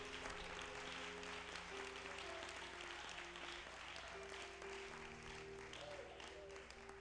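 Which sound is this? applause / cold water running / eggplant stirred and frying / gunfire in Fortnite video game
applause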